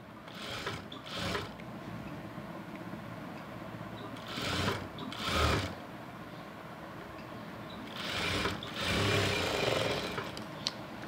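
A tailoring sewing machine stitches a fabric strip (patti) in bursts: several short whirring runs separated by pauses, close and moderately loud, with no talk.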